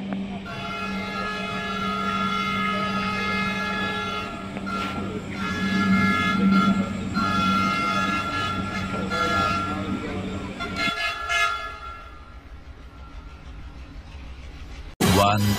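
A local train runs from Kolkata via Dum Dum and Barasat toward Hasnabad, a loud continuous rumble with sustained horn-like tones, then a quieter stretch and an abrupt jolt at the end.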